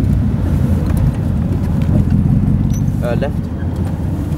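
An Aston Martin DBR1 driving through Monaco, its engine rumbling loud and close with heavy wind buffeting the microphone, while a voice says a brief word partway through.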